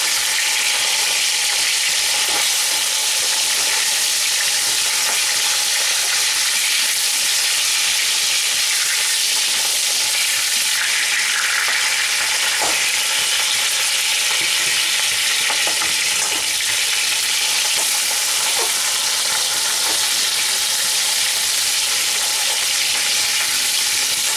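Constant loud sizzle of a katla fish head frying in a pan, with occasional scraping and tapping as it is broken up, no voices.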